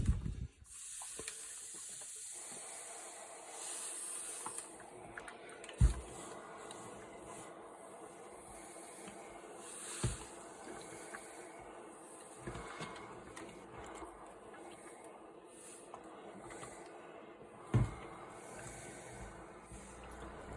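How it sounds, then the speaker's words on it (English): Steady low hiss of steam rising from a wet towel pressed under a hot iron on a wooden gun stock to raise a dent, continuous and fairly quiet with occasional soft clicks and knocks. "This is probably the safest way to steam out dents."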